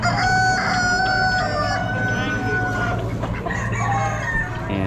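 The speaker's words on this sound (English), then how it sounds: "More hens." Hens clucking and squawking up close at an Amish auction, with a rooster crowing among them; busy, overlapping farmyard calls throughout.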